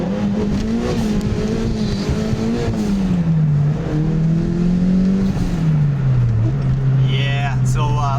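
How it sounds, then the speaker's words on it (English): Turbocharged Toyota 2ZZ-GE engine in an MR2 Spyder, heard from inside the car, revving steadily with pitch rising and dipping through gear changes and a brief whistle near the end, with engine noise continuous throughout. "we'll go ahead and make some 2zz boosted noises"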